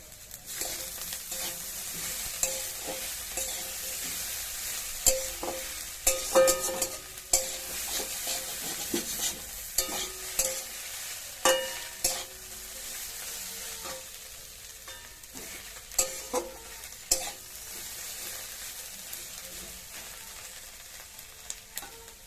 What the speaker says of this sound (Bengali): এবার এটার মধ্যে আমি একটু রসুন দিয়ে দিলাম